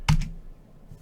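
A single sharp click of a computer keyboard key being struck, close and distinct, then near silence.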